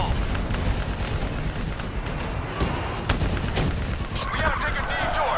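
Heavy battlefield gunfire in Call of Duty Black Ops 3, a constant barrage of rapid shots and booming impacts, loud and close, with shouted voices mixed into the chaos.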